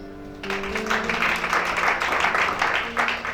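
Audience applause at a church conference in Libreville, Gabon, breaking out suddenly after a brief pause and continuing as dense, loud clapping over a steady low tone.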